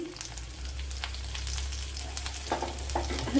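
Garlic, ginger and fenugreek seeds frying in hot oil in a pan for a snake gourd dish, a steady close sizzle with light crackles and a few louder spits near the end, no talking.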